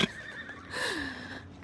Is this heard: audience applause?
no